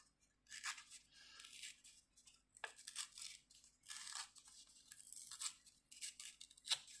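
Paper torn by hand for a chocolate-bar card craft project, heard as a series of close, quiet ripping bursts separated by brief pauses.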